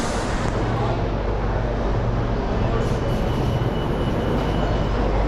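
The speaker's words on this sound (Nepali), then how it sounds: "हाम्रो मेट्रो बी पनि आइसक्यो।" A Metro B subway train pulls into a station, a loud, steady rumble of wheels and carriages that fills the whole stretch close by, with faint crowd voices underneath.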